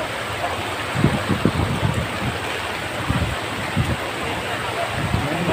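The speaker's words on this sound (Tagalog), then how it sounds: "Ngayon maragasan yung tubig oh." Rushing typhoon floodwater roars steadily in a constant broadband wash, with muffled voices and occasional thumps breaking through.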